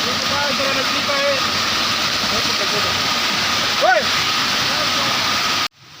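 Flood water flows through a village during heavy rain, a constant loud rushing and sloshing that continues until it cuts off abruptly near the end, with voices faintly heard beneath it.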